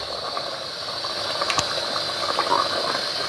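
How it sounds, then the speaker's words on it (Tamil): A pot of chicken dum biryani at a rolling boil gives a steady close hiss of steam with small bubbling pops and light clicks throughout. "நல்லா கொதிக்க ஆரம்பிச்சிருச்சு"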